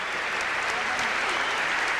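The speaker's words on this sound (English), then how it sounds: "They're giving him a standing ovation." A tennis crowd in Washington gives Andre Agassi a standing ovation, a steady, dense roar of applause filling the whole moment without a break.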